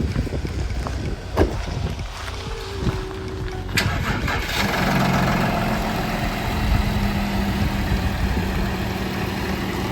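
A crash-damaged Porsche Cayenne engine turns over and catches at a repair shop, then settles into a steady idle amid background noise.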